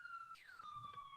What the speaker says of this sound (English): forgive the sirens in the background.